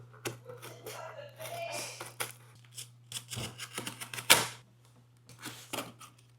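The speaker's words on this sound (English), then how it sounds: "These little pair of scissors I'm going to use to cut the cardboard right." Small pair of scissors cutting cardboard during a home car bumper repair, a quiet irregular series of crisp snips and scraping crunches, close and faint against a steady low hum.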